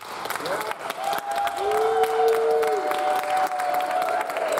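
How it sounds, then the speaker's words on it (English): Poetry festival audience at City College of New York applauding and cheering, a dense steady wash of clapping with crowd noise and voices mixed in, fairly loud and continuous throughout. "I want everyone to give a really strong round of applause for Pamela Laskin."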